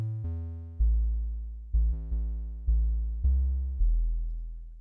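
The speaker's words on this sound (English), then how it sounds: "It's literally just a sine wave with a triangle wave layered up." Synth bass tone built in the Vital synthesizer from a sine wave layered with a triangle wave, playing a run of about seven punchy notes, each striking loudly and then decaying smoothly, with no voices.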